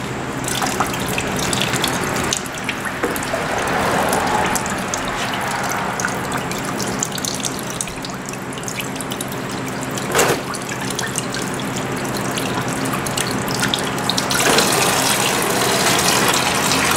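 Engine coolant drains steadily out of a 2000 Yamaha YZF R6 motorcycle into a pan, a continuous close trickling, splashing wash that holds level throughout with one brief knock partway, no speech.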